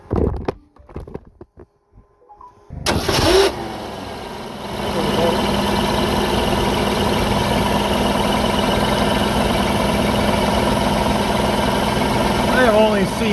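Jeep CJ-7 engine fitted with Holley Pro-Jection 1D fuel injection cranks and catches after a few quiet clicks, then settles into a steady, close idle.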